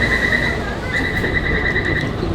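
A Taipei metro train on the Tamsui line runs with a steady rumble, overlaid by a thin, continuous high whine that briefly dips and returns.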